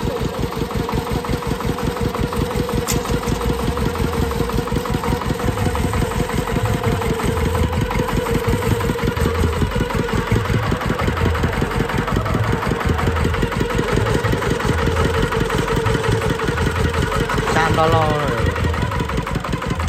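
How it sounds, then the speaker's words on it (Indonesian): Engine that drives a ferris wheel ride at a night market, being set up by crew, a steady mid-pitched idle chugging continuously and fairly loud, with a few words of speech over it. "Iki mesin penggerak wahana biang lala."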